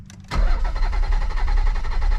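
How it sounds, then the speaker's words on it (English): The twin-turbo engine of an old Nissan 300ZX parts car is cranked over and catches with a sudden loud surge, then keeps churning at a steady, rough pace close to the microphone. "we're just gonna see if it will crank over"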